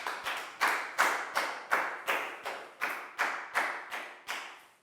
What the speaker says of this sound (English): High five and a big round of applause for Lakgau, please, guys.